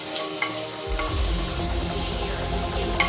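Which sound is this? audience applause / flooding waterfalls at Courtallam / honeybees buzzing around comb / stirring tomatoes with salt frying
stirring tomatoes with salt frying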